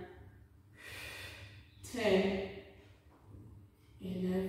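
A person exhales audibly during a Pilates exercise, with several breathy puffs and sighs of varying length coming close to the listener.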